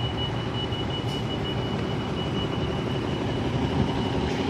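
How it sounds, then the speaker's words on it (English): A noisy bus rumbles along a city street, a heavy, steady engine drone with broadband road roar that holds loud and close for several seconds with no speech. "There's a nice noisy bus here."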